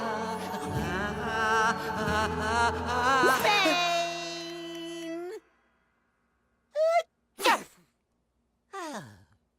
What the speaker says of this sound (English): Sneeze if you have to.